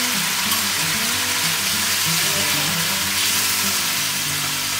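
Eggs frying and being stirred in a spiced masala for egg korma, a loud continuous sizzle close up with low stirring rumbles running underneath throughout.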